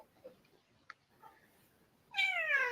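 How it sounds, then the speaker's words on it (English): A pet cat meows at close range after a few faint sounds, giving one clear, drawn-out meow at the end of an otherwise quiet indoor moment. "She's at my feet just meowing."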